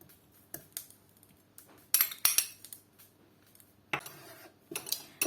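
Red curry paste stirred with coconut milk in a pan on moderate heat, heard as scattered metallic scrapes and clinks of a utensil against the pan, with quiet gaps between strokes and no talking.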